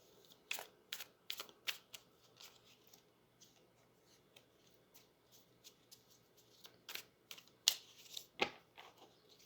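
Oracle cards drawn from a deck during a tarot-style reading, heard as a string of short crisp slaps and flicks at uneven intervals, close and fairly quiet, with a small cluster of louder snaps near the end and no talking.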